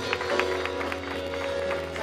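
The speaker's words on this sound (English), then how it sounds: "Come on, clap your hand and tell them thank you." A crowd of believers at a prophetic summit keeps clapping steadily, a broad, even spread of hand claps set against sustained music and general crowd noise.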